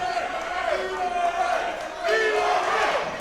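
Crowd at an independent wrestling show, many voices chanting and cheering together in a loud, sustained roar that rises again toward the end.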